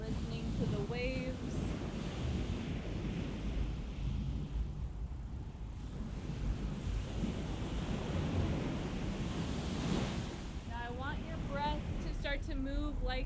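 Ocean surf rolls and washes in continuously, a steady broadband roar with some wind buffeting the microphone, broken by brief faint voice-like sounds near the start and end.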